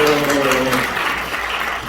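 Congregation applauding together at a Christmas Day church service, a dense steady wash of clapping that holds fairly loud for two seconds and eases slightly toward the end, with faint lingering tones beneath.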